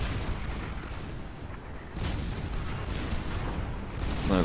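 Artillery batteries firing in the strategy game Supreme Commander 2: a dense wash of distant, rumbling booms and blasts layered together, continuous and moderately quiet, with no talking.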